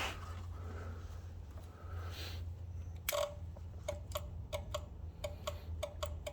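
A relay on a John Deere 318 garden tractor clicks repeatedly, sharp close ticks in an irregular run after a brief rustle, over a steady low hum.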